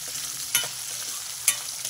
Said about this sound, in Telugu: కలుపుతూ వేపుకోండి, లేకపోతే మాడిపోతాయి.